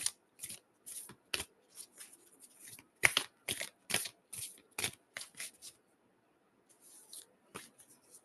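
An oracle card deck is shuffled by hand, close and soft, in quick papery riffles and flicks with short pauses between bursts, and no talk.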